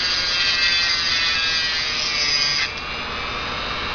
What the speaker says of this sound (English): The glass is only about ½ millimeter thick, so it isn't a lot of drilling.